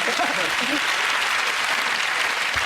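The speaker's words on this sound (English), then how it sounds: "gets a round of applause for that" A British comedy panel show's studio audience claps in a dense, even burst, loud and close, running throughout with no talk over it.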